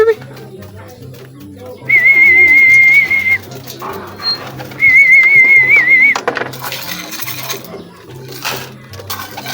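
Racing pigeons cooing in a loft, soft repeated low coos in a steady rhythm, interrupted by two long shrill whistle blasts and clinking, with a person talking nearby.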